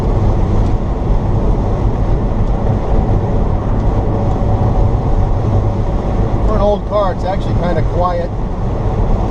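Steady wind and road roar fill the cabin of a Datsun 280Z electric conversion cruising near 70 mph, air rushing past an old, leaking sunroof gasket, with a voice briefly speaking near the end.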